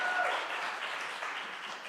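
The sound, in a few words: audience applause at a talent show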